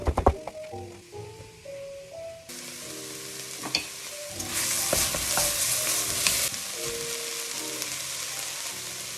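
Vegetables for cabbage soup sizzle and fry in a pan, with a stirring utensil scraping and clacking against it, close and continuous, the sizzle swelling louder midway.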